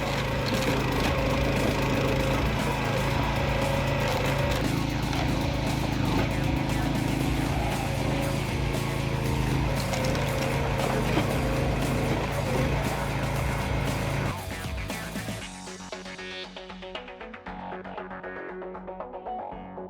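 Large firewood processor runs continuously with a loud, dense mechanical roar and clatter of wood, steady throughout before thinning out in the last few seconds; no voices.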